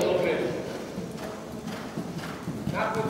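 A horse's hooves clip-clop over a jump during a show-jumping training session at an equestrian centre, with muffled thuds coming in uneven bursts under a coach's spoken instructions.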